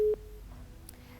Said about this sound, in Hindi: लगता है फोन कट गया है।